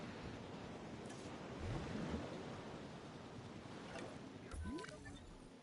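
A small waterfall in the Jurassic World Evolution 2 video game gives a steady rushing water wash throughout, with brief faint game tones and swells layered on top.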